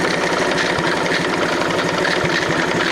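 A small Honda motorcycle engine fitted with a Chinese carburetor idles close up, a steady loud putter with a fast, slightly uneven pulse and occasional stumbles, with no talk.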